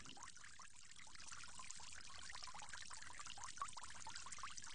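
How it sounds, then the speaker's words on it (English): Water poured over the forearms during ritual ablution, right arm first and then left, makes a steady, close splashing trickle with no voices. "You want to make sure you're getting water on your forearms, starting with the right, moving along to the left."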